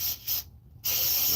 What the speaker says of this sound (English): spray some cleaner where the rods is